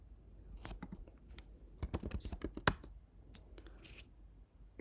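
Quick bursts of keystrokes clack on a computer keyboard as a command is typed, close and crisp, with uneven pauses between clusters and no talking.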